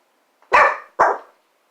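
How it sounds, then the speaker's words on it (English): A dog barks twice in quick succession, loud and close, sharp broad yelps with a short gap between them, reacting to noises outside. "dog he's freaking out because there's noises outside"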